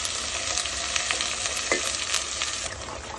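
Ground masala paste for a fish curry frying in hot oil, a loud dense sizzle with stirring scrapes throughout, close up and with no voices.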